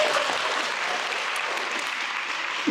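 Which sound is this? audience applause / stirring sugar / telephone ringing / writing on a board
audience applause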